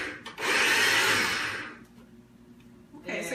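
A food processor pulsing canned salt-free chickpeas: one loud whirring burst of just over a second, a quieter pause, then a short second pulse starting at the end.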